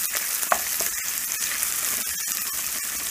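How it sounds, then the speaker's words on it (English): Chopped red onion sautéing in ghee for egg biryani, a bright crackling close sizzle with quick pops and stirring scrapes throughout, no voices. "Saute it until this oil has slightly brown color."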